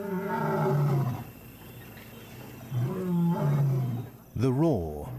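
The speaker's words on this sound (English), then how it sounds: "The roar is a defining feature of big cats that separates them from their smaller domestic cousins." A lion roars in a series of deep, heavy calls: a long rumbling roar, a pause, a second roar, then a shorter rising grunt near the end, loud and close with no other sound.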